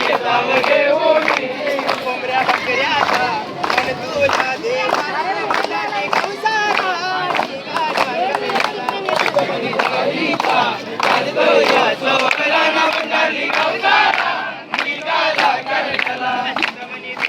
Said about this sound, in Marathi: तेवढ्यात एक पालखी आली होती. मस्त एकविरा आईचं गाणं बोलत होते